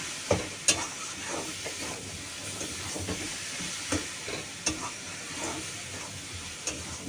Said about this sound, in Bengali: এবার এটাকে শুধু টানাবো নাড়তে নাড়তে শুধু